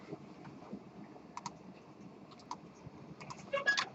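Students tap away on computer keyboards in a classroom, scattered light key clicks at low level with a brief burst of quicker typing near the end, no talk.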